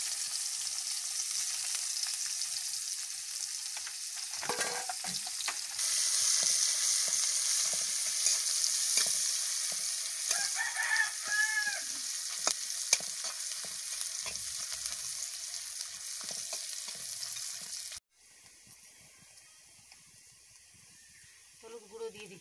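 Chopped onion, cinnamon and ground spices fry in a pan for an egg palak curry, a steady close sizzle with occasional stirring that drops quieter near the end.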